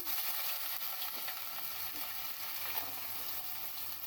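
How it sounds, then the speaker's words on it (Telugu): Onions frying in hot oil for a village-style drumstick curry, a steady, dense sizzle with a constant crackling hiss and no voices. "ఆయిల్ పోసుకుందాం, ఉల్లిపాయలు వేసుకుందాం"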